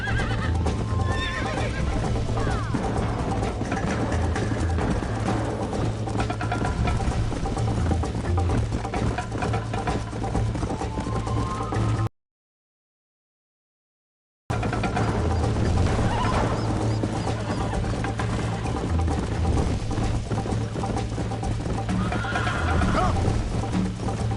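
A horse in the Red Dead Redemption video game whinnies with steady clip-clop of hooves under constant ambient noise, broken by a brief dead-silent gap midway before the galloping resumes.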